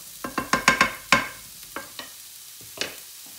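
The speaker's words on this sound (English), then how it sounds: "So I'm now going to dry fry my mince and you can see it go brown." Mince dry frying in a pan after the vegetables are pushed aside, a burst of quick scraping, stirring knocks followed by a few sparser clacks, close and fairly faint.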